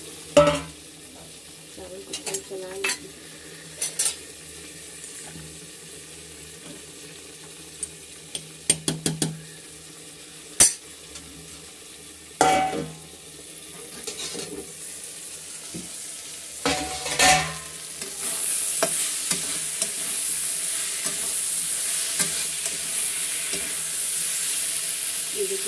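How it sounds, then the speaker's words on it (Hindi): Gravy for a Bihari eggplant and potato sabji fries in a pan while a spoon stirs it, giving scattered scrapes and clinks, then a steady hissing sizzle that swells through the last third. No one speaks. "इसके बाद थोड़ा सा ग्रेवी ग्रेवी को फ्राई"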